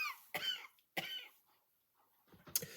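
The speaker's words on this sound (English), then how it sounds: "cough attack" Three sharp, close coughs at uneven intervals, each a harsh burst with a rasping tail, separated by near silence.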